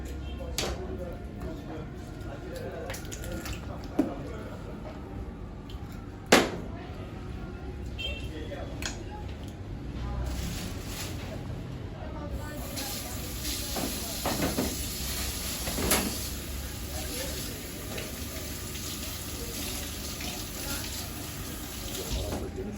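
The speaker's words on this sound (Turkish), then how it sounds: "Güzelce balıklarımızı yıkayacağız" Tap water runs steadily as local mackerel, each around 500 grams, are washed, making a continuous soft hiss with a few sharp clunks and splashes scattered through it.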